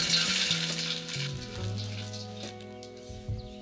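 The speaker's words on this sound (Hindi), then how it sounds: "दो टीस्पून इसमें देसी घी हमने डाला हुआ है, उसमें हम इसे फ्राई कर लेते हैं।" Puffed fox nuts (makhana) fry in desi ghee with a steady close sizzle and crackle, and occasional stirring scrapes and pops in the pan.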